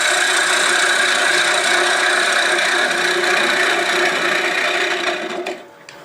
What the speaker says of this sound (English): Going down further, I start picking up chatter